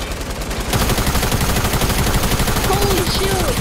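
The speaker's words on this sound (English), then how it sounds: "Just keep on shooting at them." Rapid automatic gunfire in a Fortnite: Battle Royale duos match, a loud, dense stream of shots starting after a brief lead-in and continuing steadily, with a voice speaking over it near the end.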